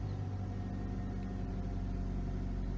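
A Ford Focus engine idles quietly and steadily, a low smooth hum with no knocking or shaking, heard from inside the car.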